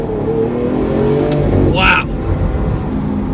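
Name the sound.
Lamborghini Aventador SV accelerating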